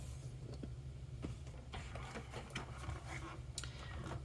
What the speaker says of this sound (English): Next, I'm bringing in my Stampin' Cut and Emboss machine.